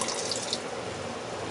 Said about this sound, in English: just a splash of apple cider vinegar